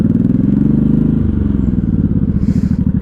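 A 1983 Honda Shadow VT750C 750 project motorcycle engine idling up close, a loud, even low-pitched rumble with rapid regular pulsing that steadies slightly partway through.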